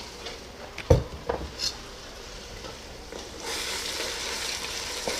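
Ingredients for a lasagna casserole are stirred in a pan of hot olive oil: a few close clanks of a utensil against the pan early on, then a steady broadband sizzle that grows louder and continues to the end.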